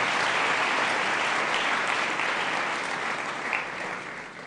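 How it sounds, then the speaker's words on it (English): A school congregation at a thanksgiving Mass for St. Joseph's S.S.S. Naggalama bursts into sustained, dense applause from many hands. The clapping stays loud and steady, then tapers slightly toward the end, with no voices over it. "Let us also clap for ourselves, because we are good people."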